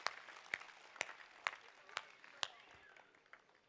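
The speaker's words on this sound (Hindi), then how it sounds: "तो एक बार दोनों हाथ खड़े करके तालियां बजाइए" At a Hindi comic poetry gathering, about six sharp, evenly spaced claps ring out in a slow rhythm, fairly faint and distant, then fade, with a soft background murmur.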